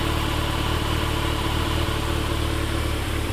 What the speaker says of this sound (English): that, my friends, is the Kawasaki zx14r 2015 edition